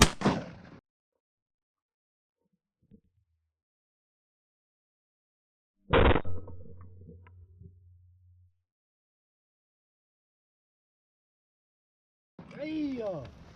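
Shotgun blasts ring out during a December duck hunt in Arizona, with a sharp report at the start and another loud one midway that fades with a brief echo, then a bird call near the end.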